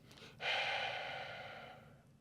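A long, breathy exhalation through the mouth, loud and close, starting abruptly and trailing off slowly over about two seconds.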